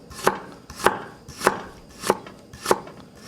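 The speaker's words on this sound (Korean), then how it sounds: "써는 거 그냥 세로로 한번 썰어 주시고요" A knife chops ingredients lengthwise on a cutting board for a shrimp stir-fried ramen, five crisp, evenly spaced strikes landing about every half second, loud and close with no talking.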